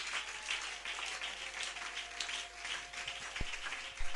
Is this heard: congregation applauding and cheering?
yes